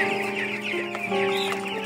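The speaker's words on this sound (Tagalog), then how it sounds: "yung malalaki na po yung mga manok ni Kuya Eric." Several chickens cluck and chatter continuously nearby, their calls overlapping with no talking.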